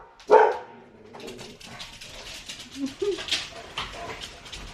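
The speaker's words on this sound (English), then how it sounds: "the dogs went nuts" Dogs bark excitedly indoors, one loud close bark followed by scattered quieter yips and barks.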